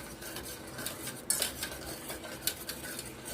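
Eggs, milk and sugar whisked in a bowl for French toast, a utensil clinking and scraping against the dish in quick irregular strokes, close and fairly quiet.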